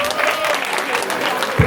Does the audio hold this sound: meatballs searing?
no